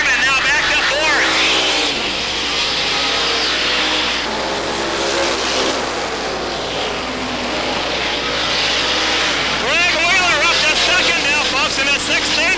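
Race cars roar past during a late-lap race at the Great Lakes Thunder 2000 event, loud engines rising and falling as they pass, under continuous excited commentary from an announcer.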